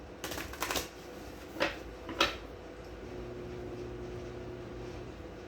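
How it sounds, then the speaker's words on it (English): A few quick papery riffles of tarot cards being shuffled, short bursts close by, followed by a steady low hum. "One more shuffle."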